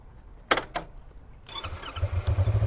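A 2019 Yamaha MT-25 motorcycle engine is started in gear, with a couple of sharp clicks followed by the starter cranking and the engine catching into a low, pulsing idle, close and moderately loud.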